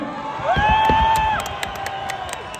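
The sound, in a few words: wrestling fans cheering for Pavlov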